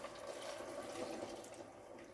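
Water pours steadily from a container over mushrooms in a home kitchen, a soft continuous splashing and trickle at low volume with no voices.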